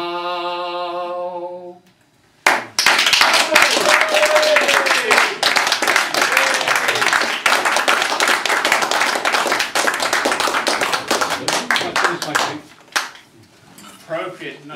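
Small audience at a poetry evening breaking into applause for poets after a brief sung tone, lively close clapping that sustains and then tapers off with scattered claps.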